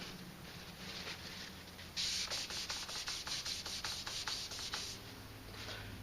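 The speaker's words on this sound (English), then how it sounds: "I'm going to take a shop towel here, and we're going to clean all this excess oil off the top." A shop towel rubbed over a rifle to wipe off excess oil, starting as quiet handling and then turning to a run of quick, close, scratchy wiping strokes in a steady rhythm before easing off.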